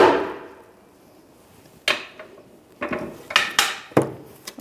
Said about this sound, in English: I'm just going to take a hammer and lightly tap that stud through.